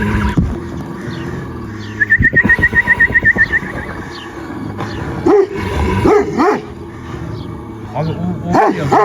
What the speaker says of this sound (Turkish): Yani hırladıkça Karabaş daha da sinirlenir.